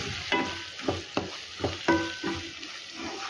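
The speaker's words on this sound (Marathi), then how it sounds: "आता हे सर्व छान असे मिक्स करून घेऊया।" A spoon scrapes and stirs sambar masala and red chili powder in a hot pan in about six distinct, uneven strokes over a soft sizzle, close and clear with no speech.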